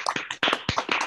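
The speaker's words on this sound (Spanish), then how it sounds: "un aplauso, creo que se lo merece" Applause from a small audience after a talk on teaching terminology management in translation, a brief burst of hand claps close and moderately loud.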